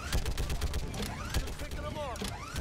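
Rapid bursts of gunfire in the video game Mass Effect hit a husk enemy, mixed with chirping, whooshing weapon effects and mechanical clanks in a dense, continuous stream of game sound.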